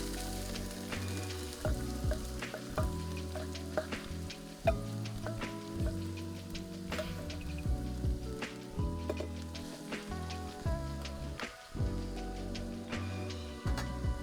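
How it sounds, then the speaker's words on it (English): Six diced onions fry in a pot of hot canola oil, a continuous close sizzle and crackle with occasional stirring scrapes, steady and moderately loud throughout with no talk. "to that I'm gonna add 6 onions that I've diced up"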